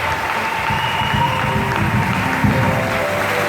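A wedding congregation applauds during a nuptial blessing: steady, dense clapping from many hands, with faint tonal sound underneath, lasting the whole moment without a break.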